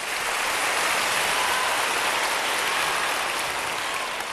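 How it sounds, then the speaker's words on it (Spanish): Concert hall audience applauding after an orchestral performance of Mozart, a dense, even wash of clapping that holds steady and close throughout. "vamos a dar un aplauso a"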